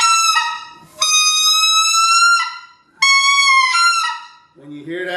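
A Riceland Custom Calls specklebelly goose call, blown with steady air, gives loud sustained honking tones in three long bursts, each holding a steady pitch before dropping off, with a brief lower voice at the very end.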